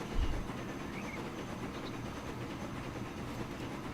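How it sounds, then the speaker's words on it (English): A cargo train rolls along in the Transport Fever video game, a low steady rumble with a soft rhythmic clatter and a brief thump at the start, no talking. "Let's have a ride with Mr. Train."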